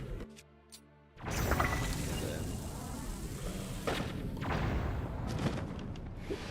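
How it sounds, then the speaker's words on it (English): Bombs go off in a video game, a sudden loud burst followed by sustained rumbling, crackling blasts with repeated heavy thuds, after a brief quieter stretch at the start. "Bombs."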